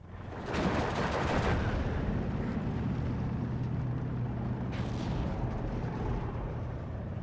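Artillery fire in the WWII strategy game Steel Division 2: a constant heavy rumble of booming barrages, with sharper blasts breaking through near the start and again partway in, loud and dense with no voices.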